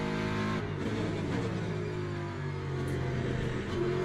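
A car engine in a racing video game holds a steady, droning rev with a faint rising pitch, playing at low volume as a continuous hum with no voices.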